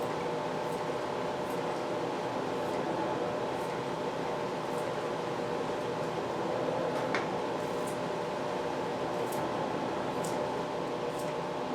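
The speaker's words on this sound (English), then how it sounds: "if you guys are hearing noises, it's probably the dishwasher washing the jars" Dishwasher washing canning jars in a home kitchen, a steady whooshing spray with faint clinks and ticks scattered through, continuous and moderately loud with no talking.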